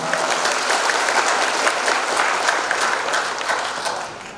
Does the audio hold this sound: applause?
yes